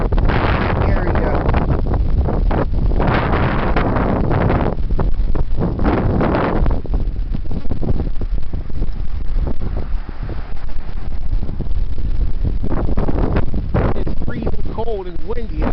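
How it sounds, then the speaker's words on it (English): Heavy, cold wind blows outdoors, roaring and buffeting the microphone in loud, continuous gusts that swell and ease throughout, with a voice briefly audible beneath the rush. "Cold and windy out."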